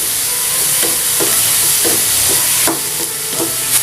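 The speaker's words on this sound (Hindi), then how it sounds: "थोड़ा सा नमक डाल देते हैं, वेजीज में अच्छे से नमक पहुंच जाएगा अंदर तक। हल्का सा सौते करेंगे।" Salted mixed vegetables for masala rava idli lightly sautéing in a pan: a steady, close sizzle and hiss, with a spoon scraping through them in regular strokes about twice a second.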